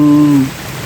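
Rain falling steadily in the rural Philippine countryside, a soft even hiss throughout, with a brief low tonal hum at the start that fades out.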